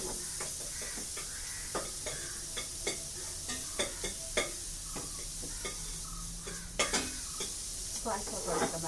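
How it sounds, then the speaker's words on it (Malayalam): Coconut pieces roast in a dry pan, with a continuous light sizzle broken by frequent sharp scraping and clattering strokes as a spoon stirs them close up; no one speaks. "നമുക്ക് തേങ്ങാക്കൊത്തിട്ട് ഒന്ന് വറുത്തെടുക്കാം"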